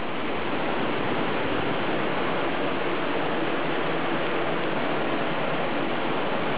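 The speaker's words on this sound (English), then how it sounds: "You can see the river below and the pounding waterfall." A pounding jungle waterfall in the Cameron Highlands, heard from a bridge over the river, gives a steady, dense, close rush of falling water with no pauses and no voices.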